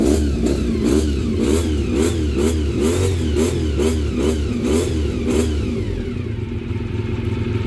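A Honda CBR400RR NC29 motorcycle engine revs repeatedly up and down, loud and close, with rhythmic rising and falling engine pitch and mechanical clatter, with no one speaking.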